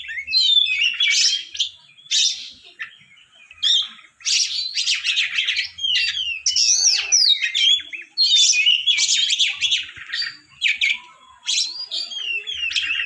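Oriental magpie-robin (kacer) singing, a loud close series of varied bright whistles, chirps and trills in quick bursts with brief pauses, alone without talk.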